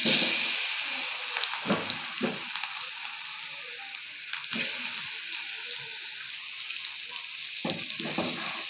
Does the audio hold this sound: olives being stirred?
yes